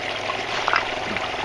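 Creek water and gravel sucked up from a creek bed are dumped into a pan, making a steady close splash and pour that lasts the whole moment, with a slight gurgle near the middle.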